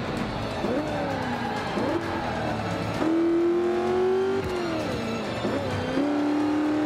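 A race car in Forza Motorsport 5 growls steadily, its engine pitch climbing through gears with several rises and shift drops, fairly loud and continuous over a low background.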